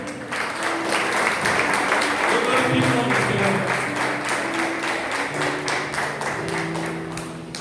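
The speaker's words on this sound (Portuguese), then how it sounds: "As palmas logo ao Senhor." A church congregation claps hands during a Portuguese-language evangelical worship service, steady dense applause filling the room throughout while someone speaks and voices sing or call out over it.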